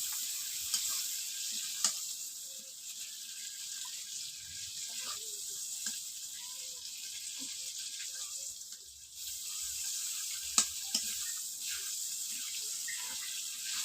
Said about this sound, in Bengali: এই দেখুন চিংড়ি মাছগুলো ভাজা হয়ে গিয়েছে